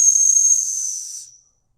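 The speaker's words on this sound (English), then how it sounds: "at least the whistle works." A single high, steady steam whistle blows loudly, then fades out and stops after about a second and a half, leaving silence.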